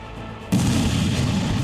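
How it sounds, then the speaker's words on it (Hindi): A single sudden, heavy blast from US airstrikes on Iran in news footage cuts in after a quiet moment, then rolls into a sustained loud, broadband roar. "शोलों की शक्ल में आसमान से बरसता बारूद, जबरदस्त धमाके, आग और काले धुएं का गुबार"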